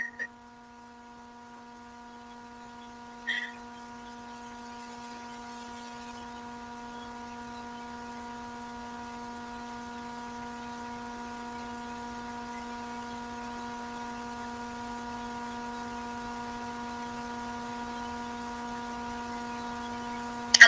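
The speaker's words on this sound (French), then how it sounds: "Dans les bureaux de LR à Caluire, il y a la clim, rassurez-vous." Steady electrical-sounding hum of office air conditioning runs throughout, constant and even with no voices, a single faint knock near the start.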